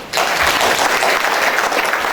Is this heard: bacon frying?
no